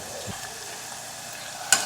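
Fenugreek leaves being stirred with ginger-chilli-garlic paste and salt in a hot pan, a soft steady sizzle with a light scrape of the spoon and a brief sharper clink near the end.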